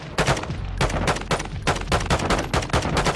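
Rapid bursts of automatic gunfire in the Warzone video game, sharp repeated shots in uneven volleys throughout, loud and close with no talking.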